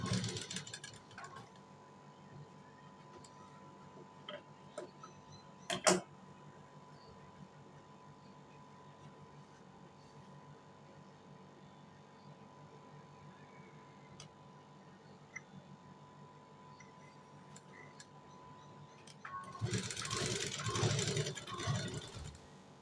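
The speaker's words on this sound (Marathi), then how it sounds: "त्याला आपण स्टिच करणार आहोत." A sewing machine stitching blouse fabric together with its lining hums steadily with faint ticking for a long stretch, broken by a brief sharp clack and followed by a louder burst of rustling near the end.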